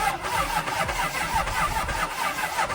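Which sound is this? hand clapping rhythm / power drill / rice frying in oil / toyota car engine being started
toyota car engine being started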